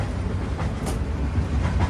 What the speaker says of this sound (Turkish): Şu an hızlı trendeyiz.